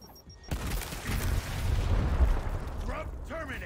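A frag grenade in Gears Tactics detonates into a loud, rumbling blast that swells and lingers for several seconds, with a voice speaking briefly near the end.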